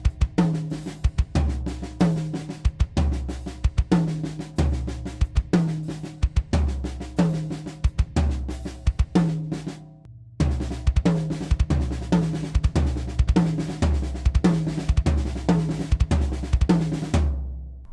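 Drum kit playing linear six-stroke fills with a hand paradiddle, a fast repeating pattern of snare, tom and cymbal hits over deep kick drum strokes, loud and close, pausing briefly midway before resuming.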